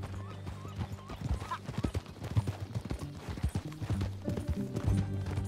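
Horse hooves clip-clopping at a steady walking rhythm in Red Dead Redemption 2, close and continuous, with faint ambient tones behind the repeated hoof strikes.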